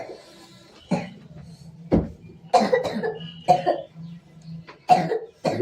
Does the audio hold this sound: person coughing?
yes